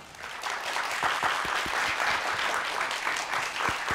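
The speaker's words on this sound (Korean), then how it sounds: "조한호 대표님을 큰 박수로 맞이해 주세요" A studio audience gives a warm, even round of applause to welcome a lecturer onto a Korean TV lecture show, steady and moderately loud throughout, with a few sharper individual claps standing out near the front.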